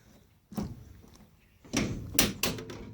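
Door of a 1968 Dodge Charger R/T Hemi being opened and shut, giving several close, solid thunks and clunks, one at a time, with faint background noise between.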